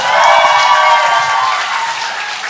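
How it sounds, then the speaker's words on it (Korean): Loud, dense audience applause fills a book concert hall, a steady sustained roar of many hands clapping that fades slightly toward the end, heard alone without talk. "다시 한번 큰 박수 부탁드리겠습니다"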